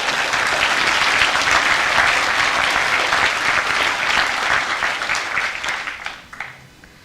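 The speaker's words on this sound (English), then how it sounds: "Let's give them all another round of applause for their outstanding work." A crowd of guests at a middle school Veterans Day breakfast applauds, a loud sustained roar of clapping that holds steady, then tapers off and dies away over the last second or so.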